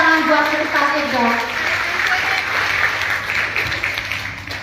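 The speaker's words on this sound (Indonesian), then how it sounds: "Tepuk tangan buat kita Ega." An audience at a testimony talk claps in steady applause while a voice is briefly heard at the start, the clapping continuing dense and fairly close throughout.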